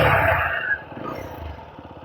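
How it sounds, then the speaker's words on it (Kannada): A TVS Apache RTR 160 4V naked motorcycle being ridden, its engine giving a steady, loud, close rumble with no talk. "ಈಗ ಬೈಕ್ ಓಡಿಸಿ ನೋಡೋಣ ಯಾವ ರೀತಿ ಇದೆ ಅಂತ."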